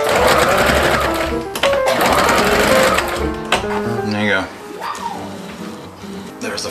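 A sewing machine hems the top edge of fabric for a homemade face mask, its needle running in fast steady bursts with brief pauses, up close, while background speech carries on underneath.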